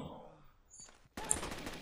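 Gunfire in Rainbow Six: Vegas 2 during a Terrorist Hunt match: a dense, loud burst of shots breaks out in the second half after quieter scattered sounds.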